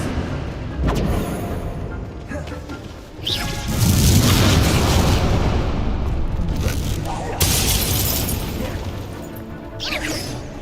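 A Confringo blast spell from Hogwarts Legacy, a loud booming explosive crash that swells midway and rumbles on, with spell effects whooshing around it and a voice speaking over the action.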